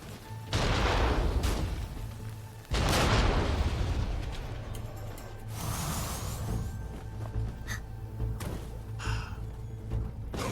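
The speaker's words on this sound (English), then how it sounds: "they all have hand cannons almost" Hand cannons fire in the Nioh 2 video game: two heavy booming blasts with long rumbling tails, followed by quieter rattling battle noise, loud and with no talking.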